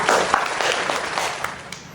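Applause from a talk show audience at the close of a segment, a dense wash of many hands clapping steadily for about two seconds, fairly loud and unbroken.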